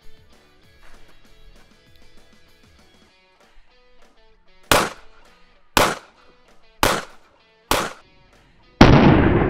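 Four sharp, loud pistol shots of 5.7 ammunition fired at a Shot Stop Level 3 body armor plate, evenly spaced about a second apart after quiet handling noise, followed by a sustained burst of noise.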